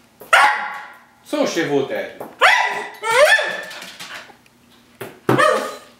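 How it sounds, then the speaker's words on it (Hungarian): A dog gives several short barks and yips in an indoor home setting, loud and close, alternating with a person speaking. "Most mi ez az ugatás?"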